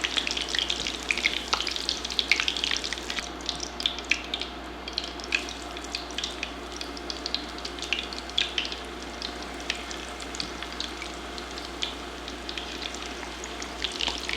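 Coconut shrimp bubbling and sizzling in deep hot oil, a steady crackle with scattered sharp pops, moderately quiet and continuous.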